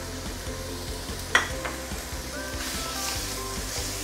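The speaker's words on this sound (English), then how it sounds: "now we can put in our deep fried julienne ginger" Deep-fried julienne ginger dropped into a hot pan over high heat for yellow rice wine chicken, giving a soft steady sizzle with a sharp clack of utensils as it goes in and a faint scraping stir afterward.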